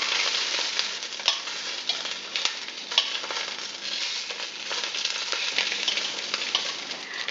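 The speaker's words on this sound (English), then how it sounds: "There's plenty of grease in the bottom of the pan, and there's just a little bit of browning on the top of the meatballs." Meatballs frying in plenty of grease in a pan: a loud, continuous close crackling sizzle with occasional sharper pops and stirring noises, no voices.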